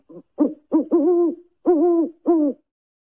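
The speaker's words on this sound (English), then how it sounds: "Owl." An owl hoots clearly and close by, giving a short rhythmic series of about six mellow hoots, some drawn out and wavering, with brief gaps between calls.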